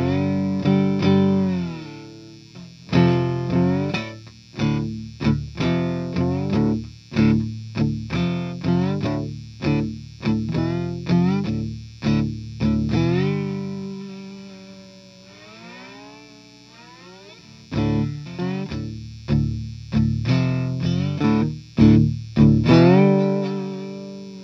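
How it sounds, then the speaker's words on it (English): A cigar box guitar played with a slide through distortion rings out in gliding, sustained notes, with repeated plucked phrases and slides up and down the neck, loud and close with no talking. "See what it sounds like with a little distortion."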